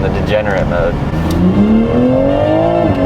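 A Toyota Supra with the exhaust burble enabled sounds from inside the car, its engine note rising steadily as it accelerates, with people talking over it.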